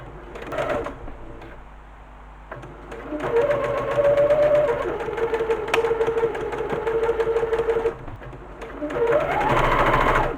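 A sewing machine stitches a tote bag over a pin, whirring steadily in close, loud runs with a brief pause early on and a short break before it starts up again.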